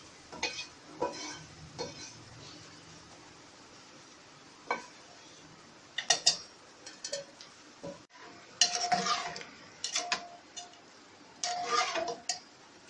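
Scraping and clinking of a spoon stirring onion, garlic and ginger into raw mango chutney in a pan, in irregular bursts with soft sizzling underneath.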